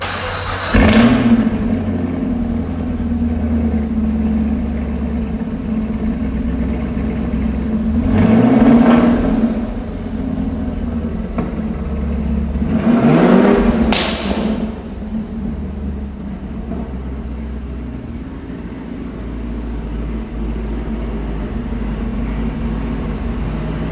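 A 2016 Chevrolet Camaro 1SS with manual transmission cranks and fires up, settling into a deep burbling idle, then the exhaust swells in two strong revs before dropping back to a steady rumble.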